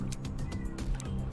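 A cat meows close by in a drawn-out, slightly wailing call over a steady low background hum.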